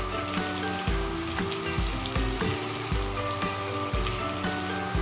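Onions fry in hot oil in a kadai, a loud steady sizzle with bright hiss, punctuated by regular scraping stirs roughly once a second.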